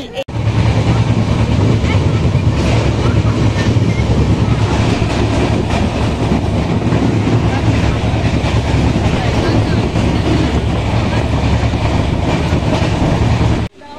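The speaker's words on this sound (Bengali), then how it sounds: "ট্রেন চলতে শুরু করলো" The Shantiniketan Express pulls away in a loud, continuous rumble and rattle heard from inside the carriage, steady and close throughout until it cuts off at the end.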